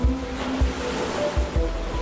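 Storm-driven waves on a flooded sea tossing a heavy ship, heard as rolling surf with periodic low thumps of water and a steady wind roar, with no voices.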